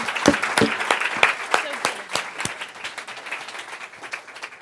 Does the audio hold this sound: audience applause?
yes